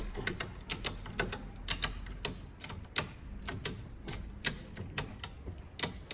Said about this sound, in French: Et maintenant, je peux activer le cliquet.